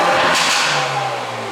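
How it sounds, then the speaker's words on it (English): Hyundai i30N engine revving in Sport Plus mode, a broad, loud roar that swells briefly then settles into a steady lower drone with a rising tone near the end. "However, if I put it to Sport Plus, okay, you can rev."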